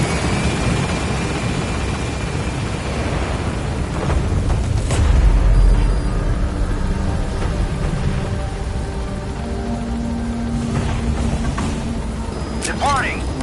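A helicopter in Metal Gear Solid V rotor-thrums steadily as it climbs away, a loud continuous roar with a deep boom midway and radio voices talking over it.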